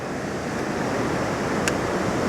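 White water rushes at Reekie Linn waterfall, a loud, steady, broadband roar filling the whole clip without pause or talk.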